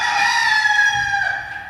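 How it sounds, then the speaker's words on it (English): A rooster crows once, loud and close, in a single drawn-out call that fades at the end. "If that rooster doesn't make you think of Pa Kelly"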